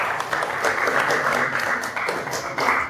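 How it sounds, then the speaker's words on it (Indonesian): An audience claps for a student group after its presentation at a broadcasting and film teacher-training session, with dense, steady applause throughout and faint voices mixed in. "Oke, beri tepuk tangan untuk kelompok 4."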